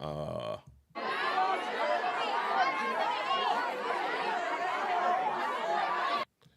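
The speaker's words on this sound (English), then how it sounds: "And so it's just like some noise, some crowd noise, right?" A crowd noise sample: a dense murmur of many voices chattering with occasional chuckles, steady and fairly loud, starting and ending abruptly.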